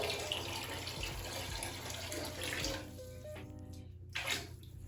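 Bleach is poured into a bathtub already filled with water, giving a steady rushing splash that stops abruptly partway through, followed by a few faint drips and trickles.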